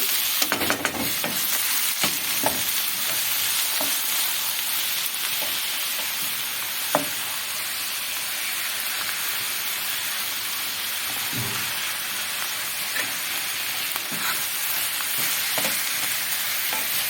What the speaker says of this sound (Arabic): بتحمريها كده وتشوحي كله مع بعضه اهو زي ما انتوا شايفين